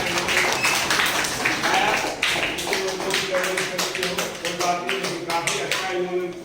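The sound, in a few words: audience applauding children after a street play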